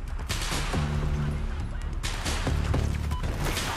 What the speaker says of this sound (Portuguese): Nossa, tem gente no barco dando volta atirando aqui!